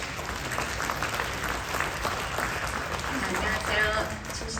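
A crowd claps steadily in sustained applause throughout, dense and even, with a faint murmur of voices underneath, welcoming a speaker at a seminar.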